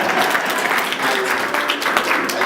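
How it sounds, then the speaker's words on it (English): Audience applause fills the room, a steady dense patter of many hands clapping at fairly even loudness throughout, with no voices rising above it. "Please clap for them as well."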